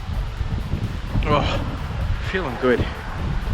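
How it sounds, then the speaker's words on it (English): Strong outdoor wind buffets the microphone during a marathon training run, making a steady low rumble under a man's speech. "It's getting very windy, so I do apologize if it's overwhelming the sound."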